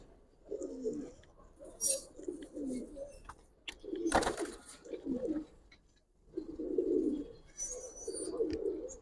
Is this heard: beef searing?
no